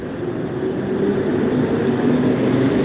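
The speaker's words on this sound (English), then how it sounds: "sorry about the background noise. I would switch off the buses" Buses pass along a city street, a steady, loud, broad traffic rumble that fills the whole stretch without pause.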